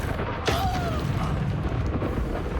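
A Confringo blasting spell detonates in the video game Hogwarts Legacy, a sharp burst with a whistling streak that trails off, followed by a rumbling, noisy aftermath.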